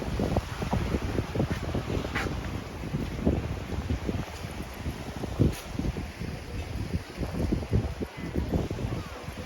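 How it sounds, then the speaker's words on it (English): Strong wind rumbles and buffets the microphone continuously, a gusty roar at Hua Hin Beach, Thailand, with no voices. "It's a little windy, so it's challenging for the photographers."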